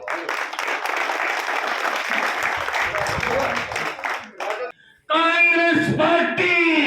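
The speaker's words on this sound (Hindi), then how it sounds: "उनसे मेरी प्रार्थना है मान सम्मान के लिए एक बार जोर से तालियां बजाएं" Audience applause at a Congress party political rally, a loud, dense clapping that runs for several seconds, breaks off briefly, then gives way to a voice shouting through amplification.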